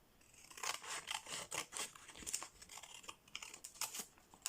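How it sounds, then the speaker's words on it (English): Scissors snip through card, cutting pieces in half, in a run of quick, close crisp cuts with short pauses between strokes; no talking. "I'll cut some card. Is that about middle? I'm going to cut these in half."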